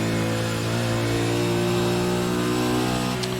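A Ford Mustang V8 race car, number 18 for Cross Continental Motorsport, in a V8 Veterans race heard from an onboard roll-bar camera, holds a loud, steady engine drone with strong harmonics for the whole stretch.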